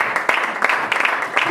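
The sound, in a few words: congregation applauding in church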